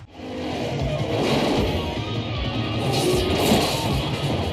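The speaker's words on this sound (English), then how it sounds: "these sequences with these cars launching from the parking garage and cars ripping over these overpasses still look awesome today" Cars roar and rip out of a parking garage in a 1980s action film scene, a dense, loud rush of engines, whooshes and impacts blended with soundtrack noise, sustained throughout.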